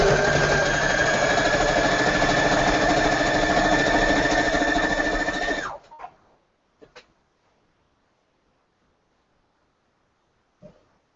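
Sewing machine chain piecing quilt patches, running in one steady, loud, continuous burst before stopping abruptly, followed by a few faint clicks and small handling knocks in near silence.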